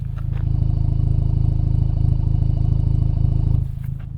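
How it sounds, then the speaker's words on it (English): Car with a newly fitted aftermarket exhaust idling nearby, a loud, steady low burbling rumble with an even pulsing beat that drops off slightly near the end. "let's see how the cars sound at idle."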